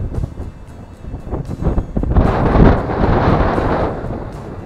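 Wind blows across a Bavaria sailboat heading out of harbour, starting as soft gusts and swelling into a loud, sustained rush.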